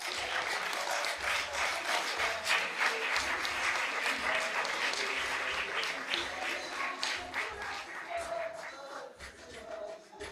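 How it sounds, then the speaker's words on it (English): Audience at the launch of Grand Challenges Rwanda gives a big round of applause: dense, sustained clapping from a large crowd, fairly loud and even, tapering slightly toward the end. "A very big round of applause from all of us."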